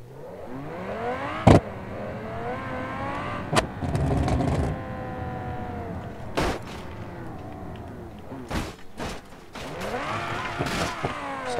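In the BeamNG.drive driving game, a Lamborghini Huracan Performante's engine revs up and down in rising and falling sweeps, punctuated by sharp exhaust cracks and bangs, loud and close, with occasional brief speech.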